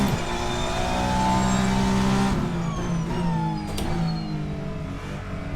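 A hypercar in a sim racing game revs hard on a flying lap, its engine note climbing and falling through gear changes in a continuous, fairly loud drone with no talk over it.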